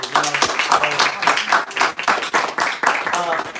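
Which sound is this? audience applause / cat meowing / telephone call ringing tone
audience applause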